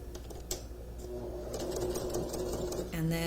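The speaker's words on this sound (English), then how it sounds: "we're stitching upwards until we get to that point that we've marked, and we're sewing across" A sewing machine stitches upward and then straight across a placket, its fast mechanical needle chatter quiet and running in short bursts, with a voice speaking over it.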